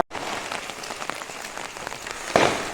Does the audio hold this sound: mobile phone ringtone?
no